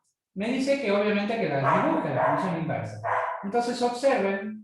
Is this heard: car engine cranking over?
no